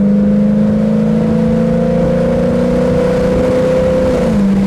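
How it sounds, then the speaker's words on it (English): 1965 Ford Mustang convertible with a 302 engine and 4-barrel carburetor accelerating on the road, a loud steady engine drone with a tone that holds and then drops as it shifts, heard from inside the car. "You can hear that 4-barrel kicking in nice"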